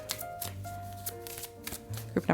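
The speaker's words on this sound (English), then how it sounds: "Let's go ahead and pull some romance cards for you" Tarot cards shuffled by hand in a series of quick riffling bursts, close and moderately loud, with a faint steady hum underneath.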